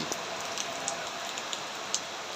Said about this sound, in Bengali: বৃষ্টি অলরেডি সকাল থেকেই বৃষ্টি পড়ছে